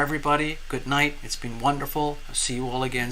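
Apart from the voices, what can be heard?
No everyday noises stand out.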